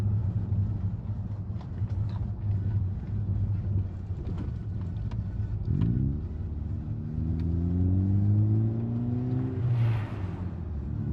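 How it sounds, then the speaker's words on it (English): A heavy engine rumbles steadily at close range, then rising tones swell as a large lorry passes by on a UK B road, loud over the constant drone of the road. "Oh, and a big lorry."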